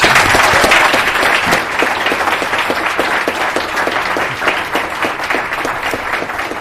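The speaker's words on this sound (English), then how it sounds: "Let me begin with a round of applause." Loud, dense audience applause fills a hall at the close of a panel dialogue on inequality and economic rights, steady crackling claps from many hands that ease slightly but carry on throughout, with no voices over it.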